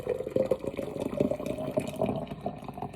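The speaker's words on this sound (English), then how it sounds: "I'm gonna fill it with hot water till I get to there." Hot water pouring into a measuring cup toward the two-cup mark, a continuous close splashing and gurgling fill lasting a few seconds, with no talk.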